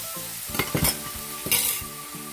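Squid stir-fries in a hot pan with a continuous sizzle, broken by two or three quick scraping stirs of a utensil against the pan, close up and with no voices.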